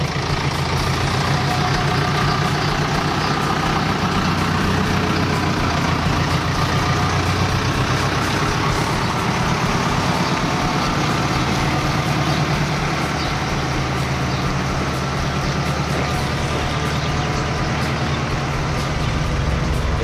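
A five-tonne tractor hitched to a slurry tanker idles steadily nearby, producing a loud, continuous low rumble with no pauses and no talk.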